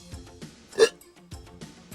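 A cartoon tugboat gives one short, sharp hiccup in the middle, loud and close, between quieter background sounds.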